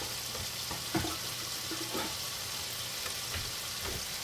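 Chicken pieces sizzle and brown in a hot pan, a soft, steady frying crackle with occasional light stirring clicks, heard alone and fairly quiet.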